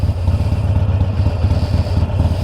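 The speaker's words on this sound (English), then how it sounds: "A lovely motorcycle." A motorcycle engine idles nearby with a steady low rumble and a faint mechanical clatter, no voices present.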